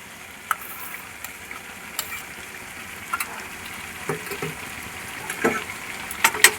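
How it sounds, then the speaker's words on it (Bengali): Chicken with sour yogurt and coriander paste sizzles and fries in a pan, a soft steady hiss broken by scattered clicks and scrapes from stirring, with no talking. "এবারে ভালো করে আরো কিছুক্ষণ কষিয়ে নেব।"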